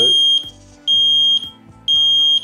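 An LSC Smart Connect smoke detector sounds its button test as three loud, piercing beeps, evenly spaced about half a second apart, each with a short pause of quiet between.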